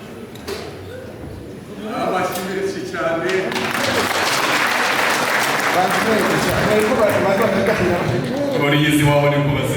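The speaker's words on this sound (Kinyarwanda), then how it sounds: "Amashyi menshi cyane." Guests at a wedding ceremony break into sustained, loud applause that swells after a couple of seconds and holds steady, with voices talking over the clapping.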